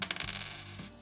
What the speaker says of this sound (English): 1981 were copper, and when you drop it, it sounds like this.